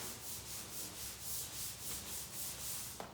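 Forged carbon fiber being hand-sanded with 180 grit sandpaper, a steady, close, rasping rub in even back-and-forth strokes with no talking.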